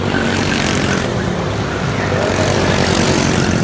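Racing karts drone around a track in a continuous, loud, broadband engine roar, a dense wash of motors with no pauses.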